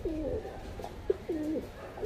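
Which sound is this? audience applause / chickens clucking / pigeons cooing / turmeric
pigeons cooing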